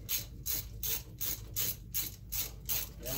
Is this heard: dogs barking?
no